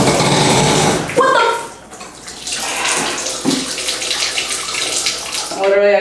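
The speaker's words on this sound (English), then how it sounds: "Why did the shower turn on in my head?" Shower water sprays and splashes in a bathroom with grimy tile, a steady rushing hiss that breaks off briefly and resumes, with a voice speaking over it.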